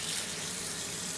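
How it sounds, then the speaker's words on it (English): Cold water runs from a kitchen tap into a sink beside a pot of boiling lobster, a steady soft hiss of flow heard alone at low volume. "I'll get the cold water and I'll put cold water straight on it straight away"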